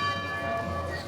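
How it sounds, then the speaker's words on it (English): A bell chimes at twelve o'clock at Disney World's Magic Kingdom, a brief, faint ringing tone with lingering overtones over soft crowd ambience. "The bell's chiming."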